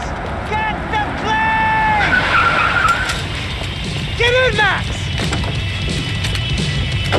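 In the video game Max Payne 3, tires squeal in sharp, rising screeches over a steady engine roar, with a second skid burst midway as a car drives hard and slides.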